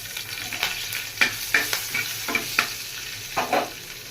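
Nigella seeds and slit green chillies crackle in a little hot oil for tempering, a dense, bright sizzle with scattered pops and spatters, steady and close, with no voices.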